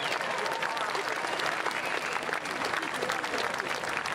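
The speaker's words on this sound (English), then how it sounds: "Let's give them a nice round of applause." A large outdoor crowd at the 24th Annual DuPont Clifford Brown Jazz Festival in Wilmington, Delaware applauds a jazz trio, with loud, dense, continuous clapping and some crowd noise throughout.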